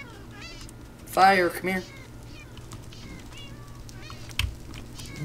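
A cat meows loudly in a short double burst, close by, over steady background game sounds, with a person talking nearby.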